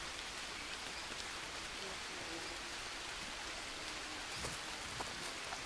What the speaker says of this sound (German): Es regnet echt verdammt viel.